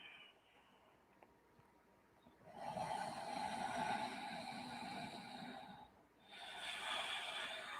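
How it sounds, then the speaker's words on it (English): Deep yoga breathing with audible sound through the nose during an Ashtanga half primary series, a quiet inhale followed by a longer, louder rushing exhale, then another breath starting, close and with no talk. "Deep breathing with sound in and out through the nose"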